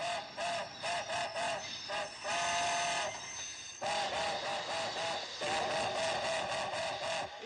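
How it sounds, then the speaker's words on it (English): A military supply train running from Kyoto to Tokyo in 1955 Japan rumbles steadily along the rails with a rhythmic clatter, loud and continuous, with whistle-like tones over the din and no talking. "This is a military supply train en route from Kyoto to Tokyo."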